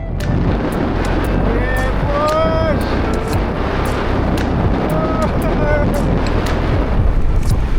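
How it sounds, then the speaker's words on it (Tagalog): Strong wind roars and buffets the microphone continuously, a dense rumbling rush with faint whistling tones and clicks mixed in. "Lakas ng hangin!"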